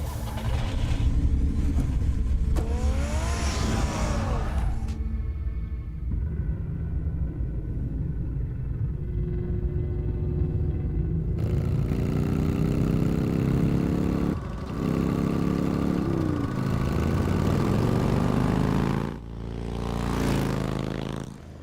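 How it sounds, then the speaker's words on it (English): Car engine revving and driving in Telltale Batman, a deep rumble that rises and falls through several revs and gear changes, loud and close, with a smoother steady stretch midway. "Get the car ready, Alfred."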